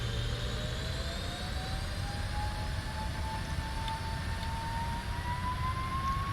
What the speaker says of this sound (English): Takeoff. Airspeed alive. Oh, nice. The sound is so good.